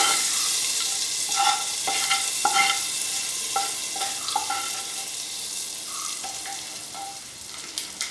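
Hot ghee tempering is poured into a pan of Kerala lentil paripp curry and sizzles hard, followed by stirring and clinking of a spoon against the pot, close and continuous with no voices.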